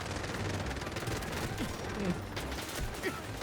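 Rapid G18 pistol fire rattles out in dense bursts during a Dragon Storm mode match in the video game Free Fire. The shots sound moderately loud against a busy game background, with faint chatter now and then.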